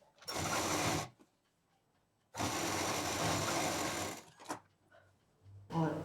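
A sewing machine sews a belt onto a patchwork bag in two loud, steady runs of a second or two each, separated by quiet pauses, ending with a brief third burst.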